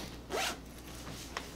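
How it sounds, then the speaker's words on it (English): A thick, heavy-toothed zipper on a Sherpa jacket gives a quick, rasping zip up close, followed a moment later by a shorter faint tug, with no voices over it. "The zipper on the Sherpa is like a thick, really like heavy toothed zipper."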